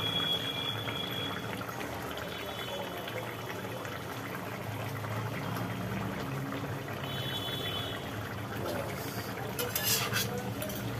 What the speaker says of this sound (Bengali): এবার মাছগুলোকে একটা একটা করে জলের মধ্যে দিয়ে দেবো